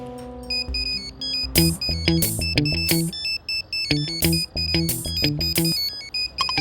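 A telephone ringtone plays a repeating melodic pattern of bright tones in bursts, loud and close, with brief pauses between phrases and no talking over it.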